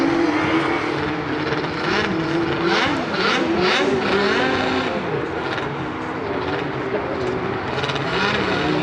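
A Formula SAE student race car runs on an endurance track, its engine a steady loud drone that rises and falls in pitch as it passes, continuous throughout with no talk.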